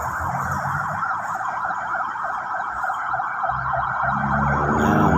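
An ambulance siren wails continuously in a rapid rising-and-falling pattern, moderately distant, over low traffic rumble.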